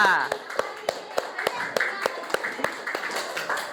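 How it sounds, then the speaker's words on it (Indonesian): Children in a classroom clap in a slow, rhythmic series of distinct claps, roughly evenly spaced, close and moderately loud, with a teacher's voice over them. "tepuk tangan buat kita semua"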